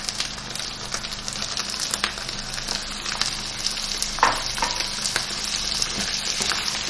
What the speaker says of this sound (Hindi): अब मैं इसमें टमाटर डालूंगी और भूनूंगी इसको